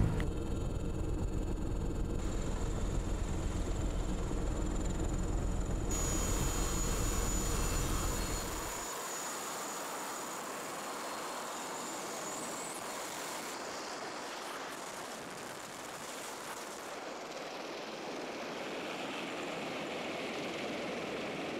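A military helicopter engine runs with a loud continuous whine and roar, dropping in low rumble partway through and settling into a steady high-pitched turbine drone.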